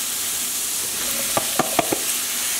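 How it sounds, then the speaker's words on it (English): Carrots and potatoes tumble into a hot pot of mushroom pot pie filling with a steady sizzle, then a few sharp stirring clacks and scrapes land close by in quick succession. "So now we're going to add the carrots."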